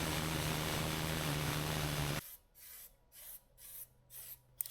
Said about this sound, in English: And some copper spray on the connection point, so it won't seize up